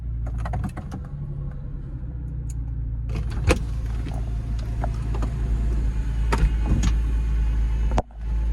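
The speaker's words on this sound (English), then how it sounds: "Let's get the top down and take it out on the road" The power convertible top of a 2002 Porsche 996 Cabriolet lowers with a steady electric motor hum, scattered clicks and latch clunks, and a firm thump as it finishes.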